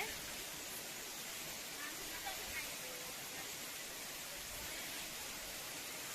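Water rushes steadily at full flow in an Odisha village setting in Deogarh, making a broad, even hiss that holds constant throughout with no clear voices over it.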